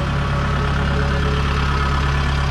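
The diesel engine of a rice harvester running in a Vietnamese village: a loud, steady, low idling rumble with a constant throbbing pulse, close by and with no talking.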